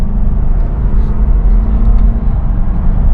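Toyota Land Cruiser 200 Series cruising onto a highway, with a loud, steady low engine and road rumble plus broadband tire and wind noise filling the cabin, no voices.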